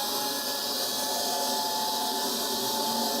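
A Nacecare 244NX battery floor scrubber running with a steady, even whir and hum, close by and loud, with no voices.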